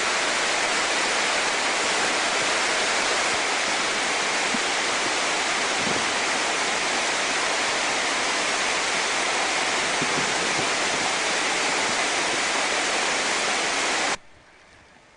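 A waterfall beside a big rock on Mount Bartle Frere in Queensland roars in a loud, steady, close rush of water that cuts off abruptly near the end, with no talking.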